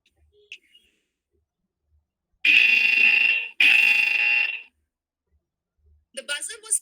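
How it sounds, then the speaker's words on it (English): Two loud, harsh buzzer blasts from a driver drowsiness alert system, each about a second long, sound one after another in near silence, followed by brief chirpy noises. "The buzzer was played to alert the driver and wake him up since his eyes were shut."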